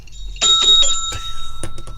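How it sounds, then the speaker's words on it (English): A small handheld bell rings in several bright dings, the first sustained and the rest quick strikes, loud and close with a lingering tone. "He's got an actual bell."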